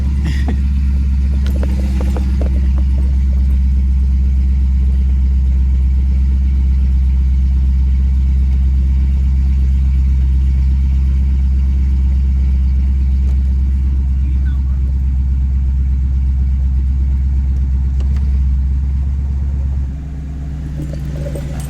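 A C7 Corvette Stingray engine idles with a deep, steady rumble close by, holding constant before the tone drops slightly near the end.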